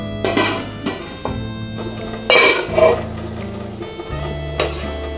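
A metal lid settles onto an idli steamer pot holding veg momos, with several clanks and clinks of steel on steel across a few seconds, loud and close, and no talking.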